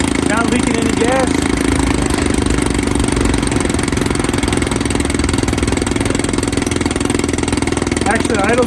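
A 1954 Evinrude 7.5 HP outboard motor idles steadily and loudly close by, a continuous running drone with people talking over it.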